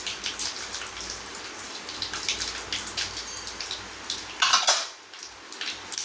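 Mustard seeds splutter and pop in hot oil along with dried red chillies, making a continuous crackling hiss with scattered sharp spits and one louder burst near the end.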